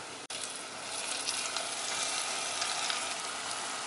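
Cleaned, cut squid hits hot oil in a pan and sets off a loud, steady sizzle that swells after a brief knock and keeps frying close up.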